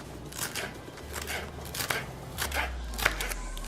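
A knife chops fresh cilantro into small pieces on a board for guacamole, making a quick run of crisp, close taps over a faint low hum.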